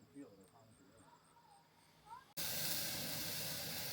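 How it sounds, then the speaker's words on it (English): A New York strip steak starts to sizzle on cast iron at an outdoor camp, with a sudden loud, steady hiss after quiet ambient sound and some talk. "Got the steak on the cast iron."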